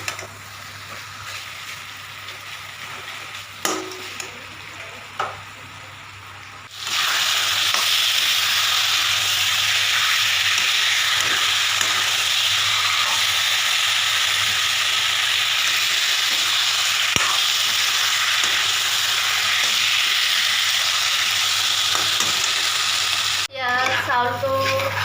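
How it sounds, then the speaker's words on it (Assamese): Meat frying in ghee in a pan, a steady loud sizzle that starts abruptly after a quieter opening of small clinks and runs on without a break until a brief pause near the end. "মাংসখিনি ধুনীয়াকৈ সিজিব লাগিব, বহুত সময় ফ্ৰাই কৰিব লাগিব মাংসখিনি"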